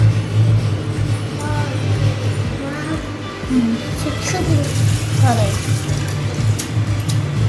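Tap water runs steadily into a sink while cut emperor fish pieces are rinsed under it, with a person talking over the splashing.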